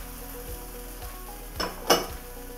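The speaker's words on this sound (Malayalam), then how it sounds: "അതിലേക്ക് എഗ്ഗൊന്ന് ആഡ് ചെയ്യുന്നുണ്ട്." Egg frying in a pan with garlic and cauliflower rice, giving a continuous low sizzle with a couple of louder bursts of crackle near the end. No one talks.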